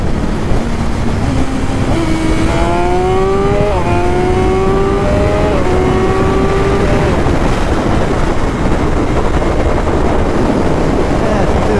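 A BMW S1000RR sport bike with an unlocked ECU revs up through several quick gear changes, the engine pitch stepping higher with each shift before fading into steady wind noise, loud and close.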